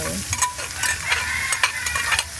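Garlic sautéing in a pan, with close, busy stirring and scraping over a crackling sizzle, the utensil clacks coming in quick irregular bursts.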